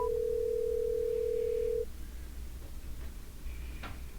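A telephone dial tone plays as a call is placed, a steady clean tone lasting nearly two seconds before cutting off, leaving faint room hiss with a few soft ticks and clicks.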